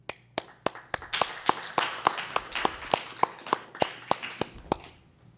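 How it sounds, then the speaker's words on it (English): A small audience at a city commissioners meeting claps for Mr. Greer: sharp, distinct hand claps in an uneven rhythm over a softer patter of applause that tapers off, heard close and without talk. "I would like to give you a round of applause for everything that you've done for our city"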